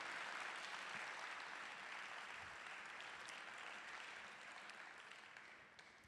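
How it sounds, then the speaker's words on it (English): An audience applauds as a performer walks onto the stage at a conference closing performance, a thick, even clatter of many hands heard at a distance and tapering slightly toward the end. "Guys, clap on Jason's entry to the stage"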